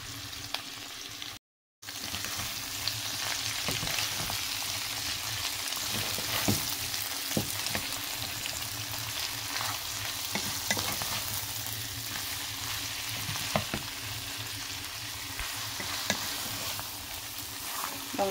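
Sautéed crabs and shrimp sizzle steadily in a pan over medium heat as marinade is stirred through, with scraping and clinking of the utensil over constant frying, close and without speech.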